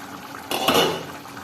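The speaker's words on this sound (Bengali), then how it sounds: "5 মিনিট পর ঢাকাটা খুললাম।" A lid comes off a pot of simmering fish curry (macher jhol) with one brief metallic clatter and scrape, rising out of a quiet kitchen and fading within a second.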